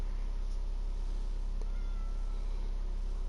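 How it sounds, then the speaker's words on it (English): A black cat meows in the video game Minecraft, a faint, brief in-game cry over a steady hum of background noise, with no talking. "My goodness, it's a black cat."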